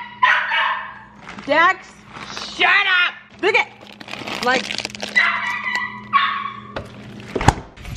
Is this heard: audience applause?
no